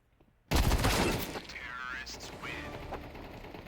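Burst of rapid gunfire in Counter-Strike 2 on the Mirage map, loud and sudden, then settling into a dense stream of game effects and mechanical clatter with a voice talking over it.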